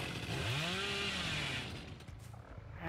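A chainsaw revs in the video game Dead by Daylight, a loud rising whine in the first second that holds steady, then fades into quieter engine rumble and scattered game noise.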